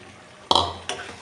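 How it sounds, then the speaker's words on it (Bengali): Tomato being sautéed with onion and ginger paste in a pan for biryani: two short, close scraping bursts of a spoon stirring through the thick mixture, the first louder, over a faint low background with no voices. "এই যে পেঁয়াজ আর আদা দিয়ে আরও একটু কষিয়ে নেব"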